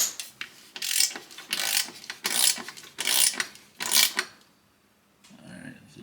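Ratcheting wrench tightening the lower exhaust hanger bolt on a mini bike fitted with a cheap aftermarket exhaust: five close, loud bursts of rapid clicking, each about half a second, then a pause and faint handling noise.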